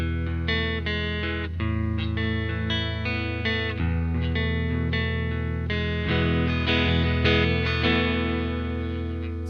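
Electric guitar with a clean tone and hall reverb, playing sustained chords and picked notes with a steady, full sound that rings out and overlaps. No one speaks.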